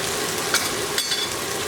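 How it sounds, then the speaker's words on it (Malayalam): Chilli, turmeric and meat masala powder sizzle and fry in a pan with a steady, close hiss and a couple of faint stirring scrapes. "ഇതെല്ലാം കൂടെ ഇട്ട് നമ്മൾ ഒന്ന് വഴറ്റിയെടുക്കുകയാണ്"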